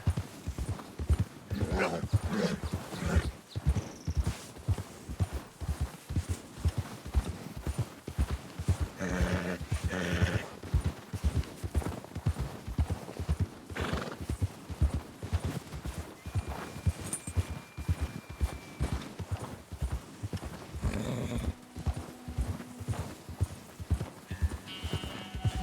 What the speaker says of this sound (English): Why is my horse making awful noises?